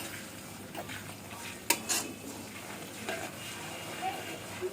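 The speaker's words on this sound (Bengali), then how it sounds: "মশলাগুলোকে ভালোভাবে কষিয়ে নিব।" Cumin paste and garlic paste sautéing in a pan, a low steady sizzle with scattered spoon scrapes and clinks against the metal, a sharper scrape near the middle, no talking.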